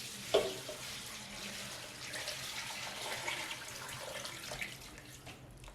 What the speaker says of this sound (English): Get the water in there.